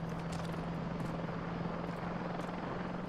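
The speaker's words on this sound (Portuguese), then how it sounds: "Tô vendo um helicóptero." A helicopter in the video game Call of Duty Modern Warfare 3 drones steadily with a constant rotor hum that stays loud and even throughout, with no talking over it.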